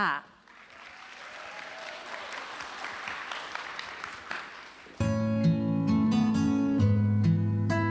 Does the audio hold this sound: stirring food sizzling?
no